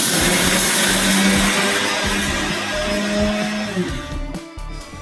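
An electric mixer grinds roasted sambar powder spices in a steady, loud whirring roar that runs nearly the whole time, then sputters and trails off near the end as the motor slows.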